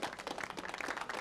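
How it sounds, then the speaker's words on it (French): A short burst of audience applause in a French-language series episode, fairly faint scattered clapping from several people heard alone. "je demande un tonnerre d'applaudissements"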